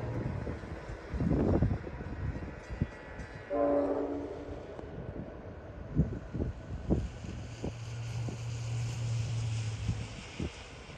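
Pan Am freight locomotives pull through a Main Street crossing in Plaistow: a train horn blasts briefly, diesel engines growl and throb with rising and falling revs, and wind buffets the microphone, then a long low horn note sounds.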